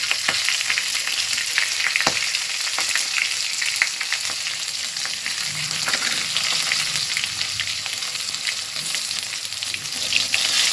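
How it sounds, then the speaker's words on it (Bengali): Whole cumin seeds with dried red chilies, bay leaves and green chilies splutter in hot oil beside potatoes, making a dense, close crackling fry with sharp pops throughout. "জিরেগুলো ফুটে গেছে, লঙ্কা ভাজা হয়ে গেছে"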